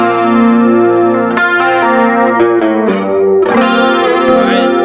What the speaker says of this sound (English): you could totally get some nice like chorus tones with it too